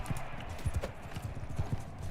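Rhythmic clip-clop of horse hooves at a quick pace in the video game Mount and Blade Bannerlord, close and fairly quiet, with faint background sounds and no clear speech.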